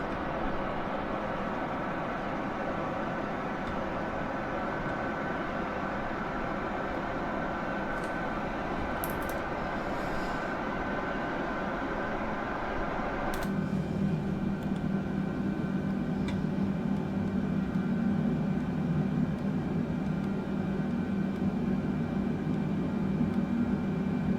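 The Boeing Dreamlifter cargo airplane in Flight Simulator 2024 holds a steady, broadband engine and airflow roar that shifts to a slightly different, deeper drone about halfway through, constant with no talking.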